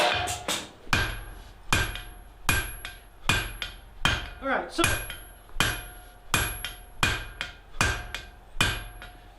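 Sharp hammer blows strike metal while forging barn door hardware, about a dozen ringing hits in a steady rhythm spaced under a second apart, close and loud, with a brief spoken word midway.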